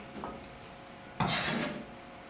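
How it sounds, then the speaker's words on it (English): A knife cuts food into smaller cubes on a board while enchiladas are made, one brief scraping stroke standing out close and fairly loud against a quiet room. "I'll kind of cut those down to some smaller cubes because we want them to cook up quickly"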